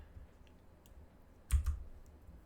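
One quick double click from a computer mouse sounds close by over faint room hum in a quiet setting.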